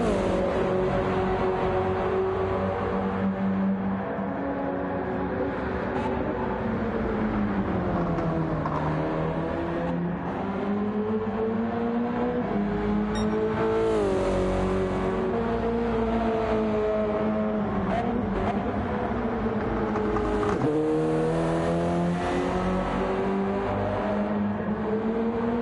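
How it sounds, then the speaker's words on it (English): Race cars lapping a track at night in a Div 2 club racing round, with engines loud and continuous, revving up and easing off as cars sweep past in a constant motorsport roar. "Cars going faster"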